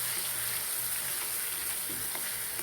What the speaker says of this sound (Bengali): এখন আবার একটু সুন্দরভাবে নেড়ে চেড়ে দিতে হবে ডিমগুলোর সাথে।